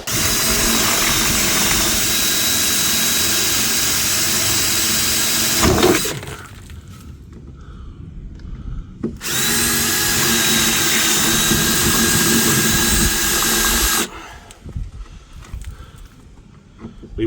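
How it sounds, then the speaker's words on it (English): A power drill bores out small rivets on the wheel arch lip of a VW Mk3 Golf, two long loud whining bursts of about five seconds each with quieter workshop noise between them, no talking. "the next thing to do is to get up here and drill out these little rivets here, here and here."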